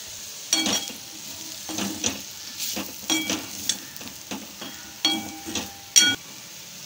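Potato pieces fry in a pan with red chilli powder for a Kongu-style potato fry, with a soft, constant sizzle broken by repeated scraping stirs at irregular intervals, heard up close.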